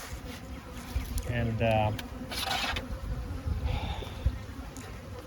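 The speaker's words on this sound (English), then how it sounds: "This is our known aggressive hive." Honeybees from an aggressive hive buzz loudly and close, with individual bees zipping past the ear in rising and falling whines over a steady hum, plus brief handling noises.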